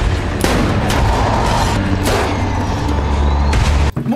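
Loud gunshots ring out in The Last of Us video game, several sharp cracks spaced across a dense, noisy backdrop of rumbling action.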